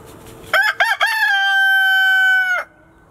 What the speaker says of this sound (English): You have a huge crow there, Mr. Mister.